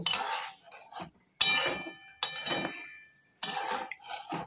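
Metal spoon scraping and clinking against a pot while fish curry is stirred and mixed, several separate bursts of rattling clatter with short pauses between them, close and fairly loud.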